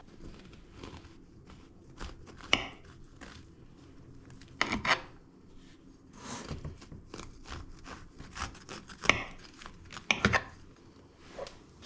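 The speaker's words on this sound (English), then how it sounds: "We're going to cut a slice anyway, so let's do that now." A knife cuts a slice of air fryer apple crumble cake in a few quiet, uneven scraping and chopping strokes with soft pauses, heard up close and alone.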